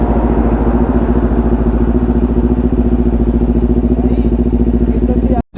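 A motorcycle engine idles steadily after a cold start on a mountain ride, its close, even pulsing thrum running unbroken before cutting off abruptly near the end.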